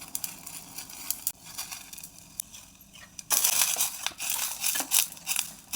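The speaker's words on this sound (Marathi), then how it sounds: "त्याच्यामध्ये शेवया टाकून घ्यायच्या" Vermicelli tipped into a pot of boiling water with oil, giving a close dry crunching rustle that turns into a loud hissing crackle partway through.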